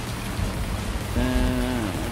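Rain falls in a farming game, a constant broadband hiss, joined partway through by a brief tonal drone that slides slightly before fading, with no one speaking.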